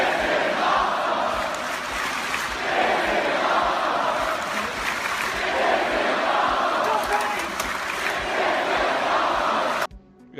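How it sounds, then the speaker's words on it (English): Crowd at a Tetris tournament yelling and cheering loudly and continuously, a dense roar of many voices that holds steady before cutting off near the end. "The crowd is yelling out."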